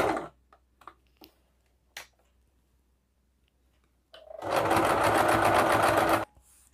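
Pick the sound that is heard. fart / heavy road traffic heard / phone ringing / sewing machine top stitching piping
sewing machine top stitching piping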